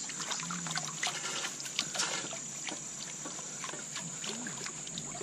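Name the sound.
washing camping cookware in water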